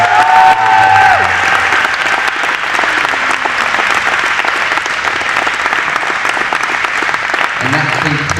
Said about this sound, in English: So one more time, round of applause.